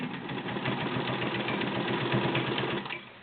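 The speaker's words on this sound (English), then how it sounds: "Beautiful, perfect balance stitch on 12 layers of cotton, 8 layers of denim." A White Selectronic 804 heavy-duty sewing machine stitches through thick layers of denim and cotton with a steady, fast mechanical whir and rapid needle clatter, running close and alone before slowing near the end.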